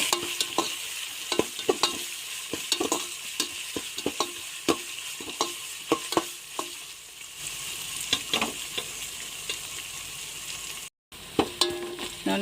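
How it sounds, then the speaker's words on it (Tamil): Mint leaves frying with ginger-garlic paste in hot oil for chicken biryani: a constant bright sizzle near at hand, broken by frequent sharp spoon scrapes and clicks against the pan, with a brief silent gap near the end. "நல்லா புதினா வதங்கின பிறகு"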